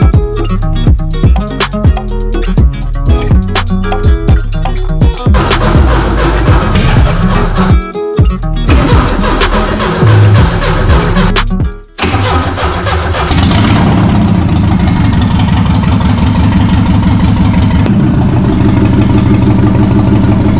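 Porsche 944 engine cranking and catching on startup after a fuel pump replacement, rough uneven firing that settles into a loud, steady idle with a brief dip midway, close to the car.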